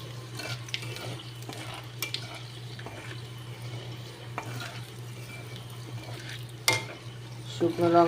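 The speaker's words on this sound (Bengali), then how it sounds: "এবার আমি কচুলতিগুলোকে ছেড়ে দিলাম" Taro stolons (kochu loti) tossed into a hot wok where dried chillies have just scorched, giving a low steady frying hiss with scattered scrapes and clinks of a spatula stirring, and a sharper clatter near the end.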